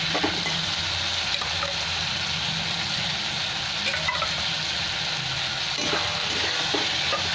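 Ground cumin paste frying in a pan with small fish, potato and ridge gourd, a steady close sizzle that runs the whole time with a few soft stirring scrapes and no talk.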